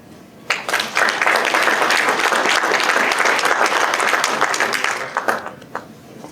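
An audience at a Mid-Michigan economic forecast breakfast gives a loud, sustained round of applause that rises sharply, holds dense clapping for several seconds, then thins out.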